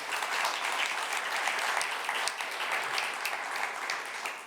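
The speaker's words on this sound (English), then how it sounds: "Big round of applause for Antonio, David, and Quentin." A crowd applauding steadily, dense clapping that holds at an even level from start to finish without voices.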